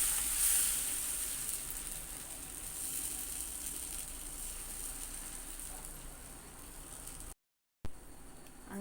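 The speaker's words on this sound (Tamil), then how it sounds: "இப்போ போய் நம்ம தோசையை ஊற்றிக்கலாம் வாங்க" Wheat rava dosa batter sizzles on a hot pan, a steady close hiss of frying that fades slightly and then briefly cuts out.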